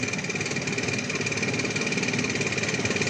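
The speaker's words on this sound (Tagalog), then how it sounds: "Astig talaga siya lang makina ng bangka guys." A loud engine hums and thrums steadily at close range, its rapid knocking pulse unbroken and with no talking.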